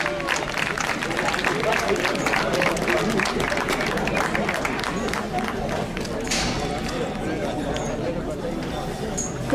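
Spectators at a young-bull course camarguaise in Saint-Rémy-de-Provence applaud in a dense, continuous wash of clapping and crowd noise that holds steady for about ten seconds.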